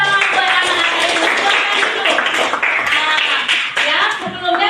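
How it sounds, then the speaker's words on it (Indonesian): Students clapping in a classroom, a dense, loud patter of hands that fills the whole stretch and fades slightly toward the end. "tepuk tangan buat anak-anak ibu"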